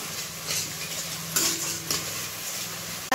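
Papaya chutney with cashews and raisins stirred in a pan, a soft continuous scraping with a low sizzle and a couple of sharper utensil knocks, no voices.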